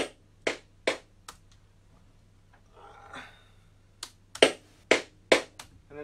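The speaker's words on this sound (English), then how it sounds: "listen to these snares, and they're not even boom bapping yet." Snare hits sampled from a pair of K-Swiss sneakers: sharp, close slaps in an uneven beat, about a dozen strikes with a brief noisy rustle in the middle and no voice.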